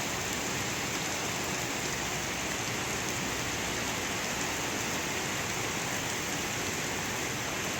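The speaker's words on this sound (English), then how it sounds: "Anybody needs any rain, just let me know. I got plenty of it." Heavy rain falls steadily over a lawn, a dense, even hiss of drops that stays loud and unbroken throughout, with no other sounds.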